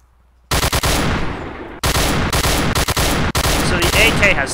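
AK rifle fire in a shooting video game comes in loud, rapid automatic bursts, three long volleys separated by short pauses, with faint voices underneath.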